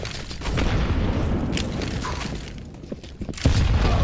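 Two grenades exploding in a Counter-Strike match on the Inferno map, heard as loud, close, rumbling booms with crackling debris and sharp gunfire-like bursts, the level swelling again near the end.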